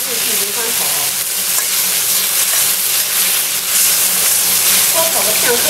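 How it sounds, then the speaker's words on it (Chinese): Tomatoes stir-fried in a wok with scallion and ginger, a loud, close, continuous sizzle and hiss with busy scraping and tossing throughout. "爆香之后，倒入西红柿进行翻炒"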